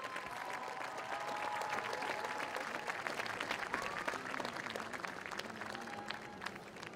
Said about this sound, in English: Let's have one more round of applause for the 2018 Midland High Homecoming King